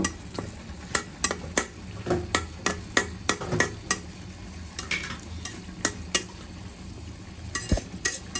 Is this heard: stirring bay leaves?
yes